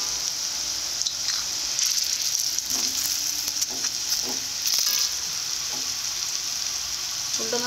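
Date-palm rasgulla balls fry in a pan with a bright, steady sizzle, punctuated by a few scraping turns and clinks of a utensil, close and fairly loud, with no talking.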